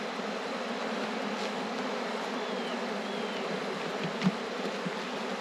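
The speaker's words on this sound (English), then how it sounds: "See a lot of bees" Honey bees buzzing around an open hive during winter farm chores, a steady, moderately faint drone of many insects with occasional individual bees passing closer and one brief knock.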